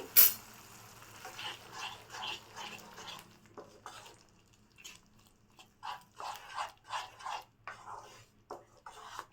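Egg pepper gravy being stirred in a pan after pepper powder goes in, a series of soft scraping strokes with light sizzling, close and fairly quiet, with no talking.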